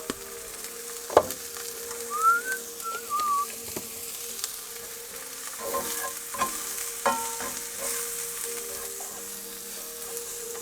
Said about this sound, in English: Just frying that up a bit.